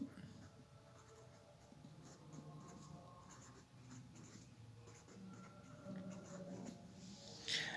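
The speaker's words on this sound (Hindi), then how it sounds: "इधर मैं इसका स्टार लिखता हूँ" Marker or chalk strokes drawing a star on a classroom board, soft rhythmic scratching at close range with some room noise and murmur underneath.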